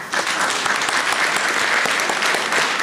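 Members at an annual general meeting clapping after a motion is carried, a brisk, loud burst of applause with individual claps audible throughout.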